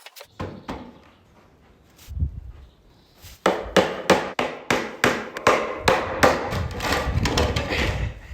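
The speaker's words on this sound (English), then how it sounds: "put the shelves in, and then hammer them in from the side" A few scattered hammer knocks, then a fast, steady series of sharp hammer blows driving nails into the side of a wooden shelf, close and loud.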